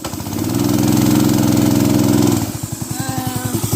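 A small engine on a homemade go-kart, cross kart or mini buggy revs to a sustained loud drone, then drops back to a chugging, pulsing idle.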